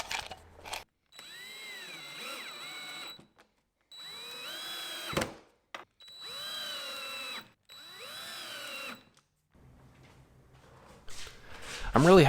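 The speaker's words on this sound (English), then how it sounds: "I simply pre-drilled the holes and drove in some screws." A power drill pre-drills holes and drives screws to fix casters to a mobile pizza oven stand, whining up and down in several separate runs with short pauses between them.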